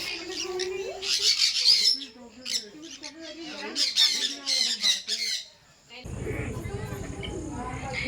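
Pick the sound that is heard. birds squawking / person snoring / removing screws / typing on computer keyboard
birds squawking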